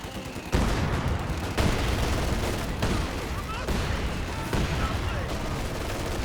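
Mortar barrage and light machine gun fire in the Company of Heroes 2 video game: a sustained rattle of gunfire punctuated by several sharp explosive impacts at roughly one-second intervals, loud and layered like a battlefield fusillade.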